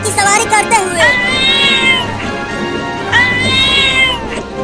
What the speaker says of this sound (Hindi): ये बिल्ली इतना बोल क्यों रही है?